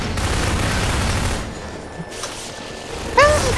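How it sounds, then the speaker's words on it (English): Rapid gunfire from the Half-Life 2 video game, a dense loud fusillade of shots in the opening seconds, dropping to quieter ambience with a couple of isolated pops and a brief sharp burst near the end. "I was shooting at that red lamp because I thought it's a man hack"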